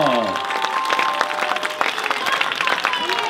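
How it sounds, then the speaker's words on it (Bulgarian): Concert crowd applauding after a carnival-themed song at a premiere show, a bright wash of clapping with music fading at the start and a voice calling out over it. "Силни аплодисменти!"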